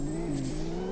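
A drift car in a mudding and rock-crawling video game drones with a steady engine hum while losing traction, and a brief scrubbing burst cuts in partway through.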